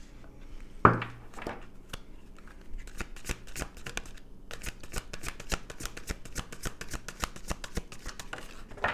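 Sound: tarot card decks being handled

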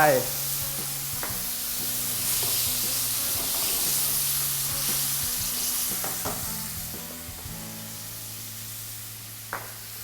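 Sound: pouring water or broth into a stir-fry pan

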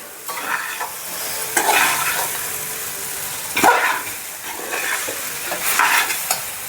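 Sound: stir-frying chicken for fried noodles

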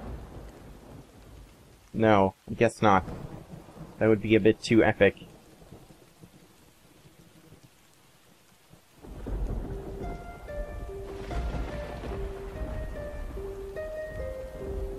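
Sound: thunder striking in the video game Sword & Sworcery

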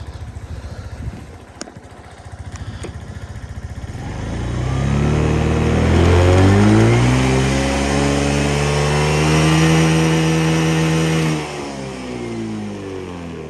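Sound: Suzuki Address V125 S scooter engine running

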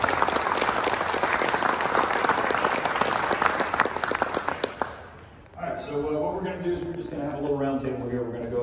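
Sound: audience applause for World War II veterans

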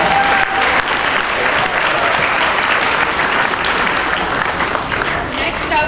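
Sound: audience applause at a school talent show

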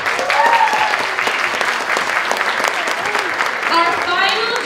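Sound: audience applause

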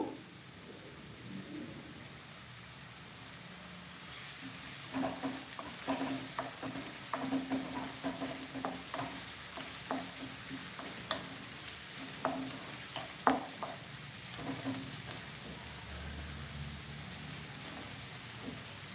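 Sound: curry leaves frying in oil

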